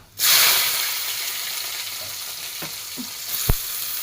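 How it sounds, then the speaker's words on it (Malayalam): Onions sautéing in hot oil in a pan for a fenugreek-leaf thoran, a steady close sizzle that starts abruptly and keeps going, with a few soft clicks and taps of stirring near the end. "നമ്മുടെ ഉള്ളി നന്നായിട്ട് വഴണ്ട്"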